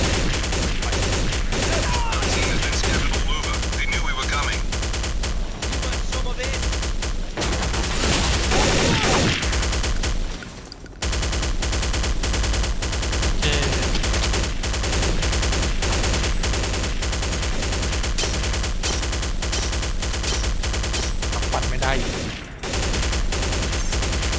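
Nonstop gunfire in the video game Counter-Strike: Condition Zero: dense, loud bursts of automatic and rapid shots fill the whole stretch, broken only by two brief lulls, with faint background voices mixed under the shooting.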